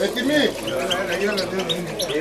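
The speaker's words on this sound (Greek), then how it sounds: "Εδώ βλέπετε τις καρδερίνες." Caged goldfinches chirp and twitter in quick, high trills, heard close but partly under someone talking throughout.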